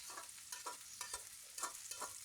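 Greens fry in a pan, with sizzling and repeated stirring scrapes in an uneven rhythm, close and quiet, with no talking.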